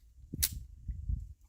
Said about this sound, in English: 32 ACP through the Mauser.